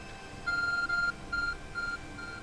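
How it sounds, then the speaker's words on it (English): An Arc Phone in Pokémon Legends: Arceus beeps: three short, steady-pitched electronic tones, the first longest, clear above a quiet game background. "The arc phone is beeping."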